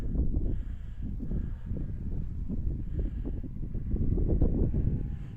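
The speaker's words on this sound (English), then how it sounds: "actually that's only the wind who makes the rotor move" Wind gusts buffet the microphone in low, rumbling surges, pushing on a foam RC glider and turning its rotor, with no voices.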